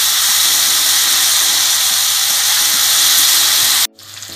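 Vegetables frying in hot oil over a high flame: a loud, steady broadband sizzle runs continuously and then cuts off abruptly near the end.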